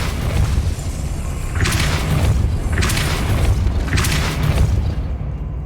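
Depulso spell effect in Hogwarts Legacy: loud, steady rumbling boom-like bed with three bright whooshing bursts at regular intervals, no talk.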